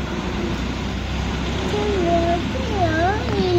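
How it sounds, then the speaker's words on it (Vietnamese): A cat meows several times in rising and falling cries toward the end, close and clear over a steady background hum, with someone talking. "Con mèo đi chui vô hang rồi."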